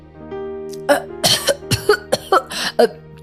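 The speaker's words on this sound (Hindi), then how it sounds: "खाने का बजट सुनकर कुसुम के मुंह में खाना ही अटक जाता है और वो खांसते हुए कहती है" A short burst of harsh coughs from a woman, several quick bursts in a row, fairly close and loud, with a voice sound mixed in.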